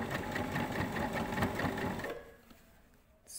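A sewing machine runs in a steady, dense whir as it stitches thick corset edges, loud and close for about two seconds before stopping into a quiet room.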